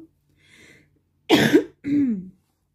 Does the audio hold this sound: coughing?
yes